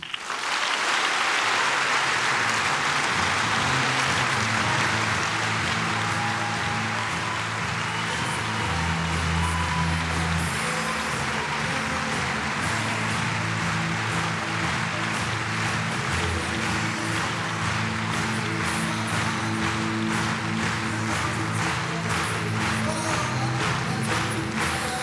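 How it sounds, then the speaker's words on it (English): Delegates at an SNP conference give a standing ovation to Alex Salmond after his speech, with loud, sustained clapping from a large hall crowd that keeps going for the whole stretch. "Delegates on their feet there applauding the SNP leader Alex Salmond as he finished his speech there"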